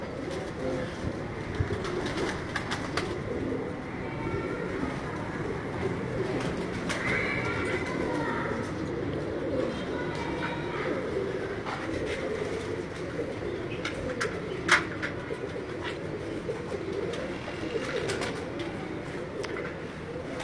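Pigeons coo in a busy loft in Karachi, soft continuous cooing and bird calls layered with other animal sounds and background noise, fairly loud throughout with a few brief sharp peaks.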